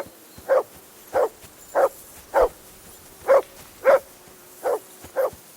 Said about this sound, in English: Jesus, Henry, that barking's driving me nuts.